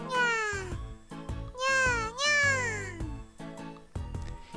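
A voice imitates a cat, meowing repeatedly in a sing-song way within a visual novel game, with a melodic background tune running underneath.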